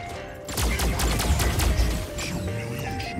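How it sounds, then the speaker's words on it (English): Mortar fire in a mech video game, a quick cluster of repeated thumping impacts and bursts over rumbling battle noise, with a faint tonal hum underneath. "he's sitting back with mortars now"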